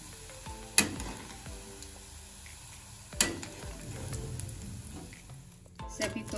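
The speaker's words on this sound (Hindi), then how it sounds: "जो कोफ्ते बचे हुए हैं इन्हें भी उसी तरह फ्राई करना है।" Dal and soybean koftas frying in oil, giving a soft continuous sizzle with a couple of sharp utensil clinks against the pan.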